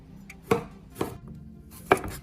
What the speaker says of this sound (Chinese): 准备一点配料，大蒜、红辣椒，还有1个柠檬，给它改刀切一下